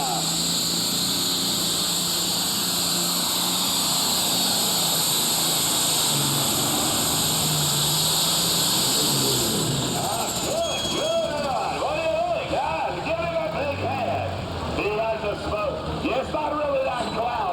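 An Allis-Chalmers D21 super stock pulling tractor roars at a county fair tractor pull, a loud sustained engine blare that drops after ten seconds into rougher, fluctuating revs with crowd noise and an announcer talking.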